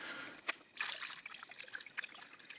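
Coolant antifreeze poured through a funnel into a 2008 Peugeot 307 1.6 petrol (TU5JP4) engine, a soft, faint trickling liquid stream with a brief splash near the start, running on alone.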